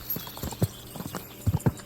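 Horse hooves clip-clop in Kingdom Come Deliverance 2, a quick uneven run of distinct close thuds at a trotting pace.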